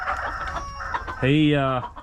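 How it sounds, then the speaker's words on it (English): Americana roosters on a farm give soft clucks, then one rooster lets out a single clear, fairly close crow lasting about half a second. "But I put some Americana roosters in here."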